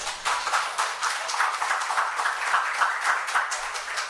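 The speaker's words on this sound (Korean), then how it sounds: "박수를 세게 쳐줘야 되겠는데." Church congregation applauding during a Sunday morning worship service, a steady dense wash of many hands clapping together, fairly loud and continuous without voices.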